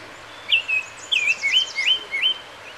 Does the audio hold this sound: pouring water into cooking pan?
no